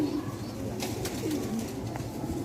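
Migratory pigeons coo softly and continuously, a low murmur of several birds repeating throughout, with no talk over it.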